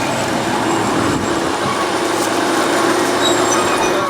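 A train runs toward Manchester Piccadilly, heard from on board as a loud continuous rumble and hiss of rail and wheels, with faint squeals over the steady noise.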